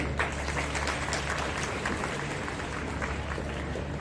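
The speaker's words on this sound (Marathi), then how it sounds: "तिचे टाळ्या वाजून स्वागत करेल" Audience applause at a school Republic Day event welcoming a fifth-grade girl before her martial arts demonstration, a steady distant wash of clapping from the crowd.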